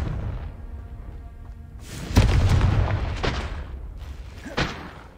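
A Confringo fire-spell blast booms out in the video game Hogwarts Legacy: a heavy explosion erupts, rumbles and fades, then a second, smaller burst follows.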